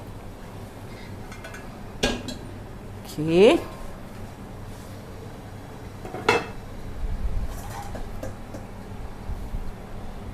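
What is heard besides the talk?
cooking pot being put down and handled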